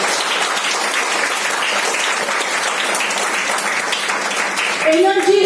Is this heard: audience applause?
yes